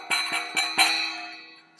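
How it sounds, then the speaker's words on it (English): A cymbal is struck with a mallet four times in an uneven rhythm. Each hit rings with a bright metallic shimmer, and the tone decays after the last stroke. "This is a cymbal."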